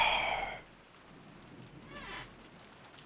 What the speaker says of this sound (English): We can hear the rain.